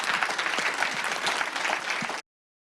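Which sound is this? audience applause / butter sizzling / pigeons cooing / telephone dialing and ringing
audience applause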